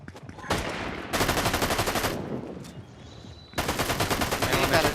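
Rapid automatic gunfire in the video game Fortnite, during a zero build match, comes in loud sustained bursts separated by short pauses.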